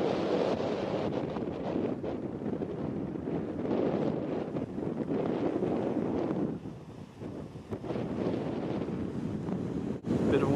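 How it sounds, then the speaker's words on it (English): Steady wind buffets the microphone on a high rocky lookout at Peggy's Cove, Nova Scotia, blowing in off the ocean, a continuous loud broadband rush with brief dips, and no speech. "Bit of wind up here"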